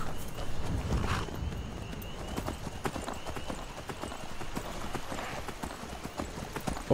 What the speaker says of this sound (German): So, wir reiten mich jetzt weiter.